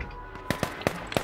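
Gunfire in the survival shooter H1Z1: four sharp, close shots spaced at uneven intervals, each a crisp crack with a short tail, over a quiet game background.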